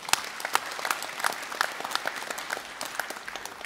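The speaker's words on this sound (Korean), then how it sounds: "큰 박수로 축하해 주시기 바랍니다" Audience applause at a university graduation ceremony, a steady spread of many hands clapping across the hall with sharp individual claps standing out, moderately faint and continuous with no voices over it.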